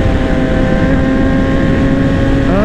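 BMW S1000RR 2018 superbike with traction control and anti-wheelie engaged, its engine roaring loud and close as it accelerates hard on asphalt, a steady high-revving drone rising in pitch toward the end.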